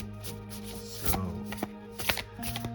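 A gilded Age of Aquarius tarot deck is riffle shuffled at close range, its stiff cards giving a few quick fluttering riffles with sharp bridging snaps in between.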